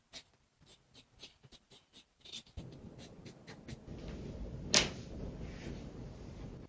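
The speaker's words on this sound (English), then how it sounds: "So I'm going to cut maybe 1/2 inch around the outside of this." Scissors cut fabric from a skirt, a string of short crisp snips at the start followed by a softer, steadier rustle of cloth, close and quiet.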